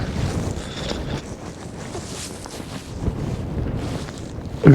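Strong, cold wind roars across a fishing boat out on the water during snowy cod fishing, a constant loud buffeting rush with no speech.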